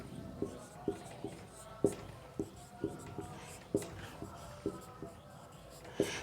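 Chalk taps and scratches on a classroom board in a regular rhythm of short, fairly distinct strokes about twice a second, with faint speech in the background.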